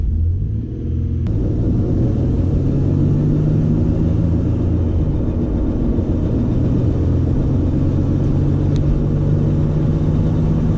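Loud, steady engine rumble and road roar from a Megasquirt-tuned car cruising on the road, heard close from inside the cabin with no talk.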